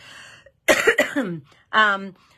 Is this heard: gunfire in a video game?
no